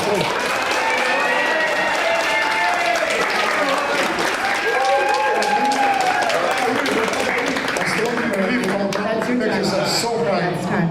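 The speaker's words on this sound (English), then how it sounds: "Reminder to please keep your cheering and jeering to a minimum, as in none, please." Debate audience in Bay Ridge, Brooklyn cheering and jeering, a steady loud wash of applause and mixed crowd voices sustained throughout, with shouting and chatter layered over the clapping.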